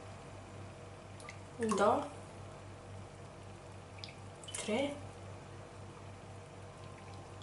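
Spoonfuls of alcohol poured one at a time into a homemade bathroom and kitchen disinfectant cleaner made with hydrogen peroxide: two brief, soft liquid splashes a few seconds apart, heard under a speaking voice.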